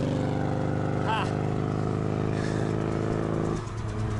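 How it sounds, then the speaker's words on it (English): Loud, rough engine drone of a Honda car without a muffler rumbling past, with a rattling exhaust note that fades slightly near the end. "It was just a Honda without a muffler."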